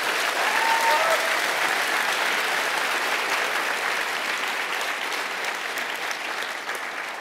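Sustained applause from a large audience at an international astronaut panel event in Montreal, a dense, steady clapping that fades slightly toward the end.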